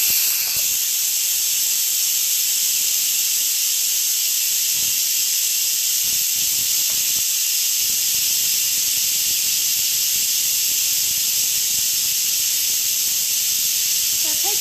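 Steam rushes from an Instant Pot's pressure valve while creamy mashed potatoes cook, a loud, steady hiss that holds unbroken for the whole stretch.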